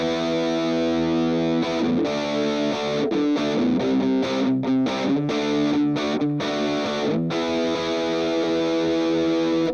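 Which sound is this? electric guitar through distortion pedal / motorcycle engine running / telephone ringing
electric guitar through distortion pedal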